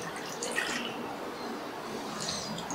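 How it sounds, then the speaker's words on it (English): Clean water poured into a film developing tank to rinse off fixer, a soft continuous gurgling flow, close but quiet, with no voices. "and pour in some water."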